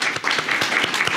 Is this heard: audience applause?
yes